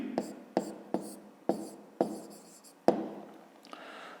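A pen writes in a notebook while a maths answer is noted down, a run of short scratchy strokes with sharp taps between them, close and quiet, ending in a longer soft scribble.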